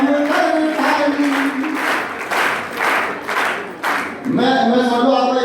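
Audience applause at a Hindi poetry recital by Kavi Sudeep Bhola, loud and sustained clapping that fills the hall in waves, with the poet's voice talking over it at the start and end.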